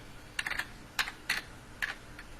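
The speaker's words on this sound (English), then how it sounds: "We can then type in the address for Google's homepage" Typing on a computer keyboard: a few short clusters of crisp, close key clicks separated by brief pauses, with no voice.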